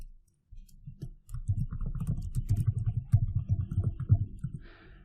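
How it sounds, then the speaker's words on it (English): Keystrokes on a computer keyboard tap out a user name in quick, uneven clicks, close and fairly quiet, after a brief silence at the start. "And I'm typing my name."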